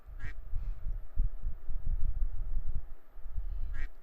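A pink cartoon duck in a hill-climbing bird video game gives a couple of short, bright quacks, one near the start and one near the end, over a dense rumbling game background.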